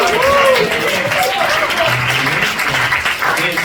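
A church congregation at a summer retreat gathering applauds its group leaders and assistant leaders with steady, dense clapping, mixed with cheering voices and crowd chatter throughout.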